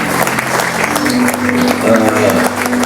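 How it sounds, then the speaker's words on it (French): Church congregation applauding and cheering together, a dense steady wash of clapping under voices calling out, held at a loud even level throughout. "honorons ensemble leur vie par des acclamations"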